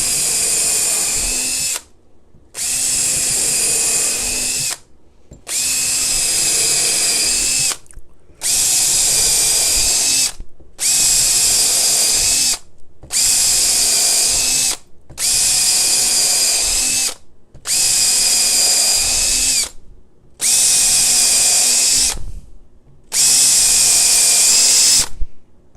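A power drill bores screw holes into a laminated guitar side mold, running in about ten steady bursts of a few seconds each with short pauses between, loud and close, with no talking.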